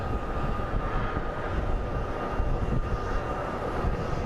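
A Southwest airliner arriving from St. Louis at Phoenix Sky Harbor International Airport produces a steady, broad jet engine roar. The noise holds loud and even throughout at an airport apron.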